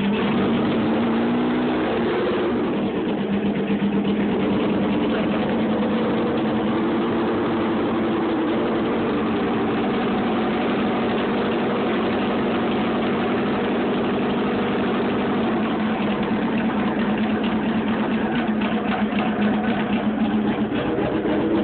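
A Honda CBR 900RR motorcycle engine runs on choke with no exhaust fitted, a raw, steady, droning idle that holds close and loud throughout with slight fluctuations.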